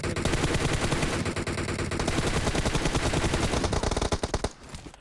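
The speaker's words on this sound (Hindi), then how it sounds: "तो बग्गी पे 2-4 गोली चलाता हूँ" Rapid automatic gunfire aimed at a buggy in the BGMI battle royale game, a loud, dense, continuous stream of shots that breaks into a few separate bursts at the end.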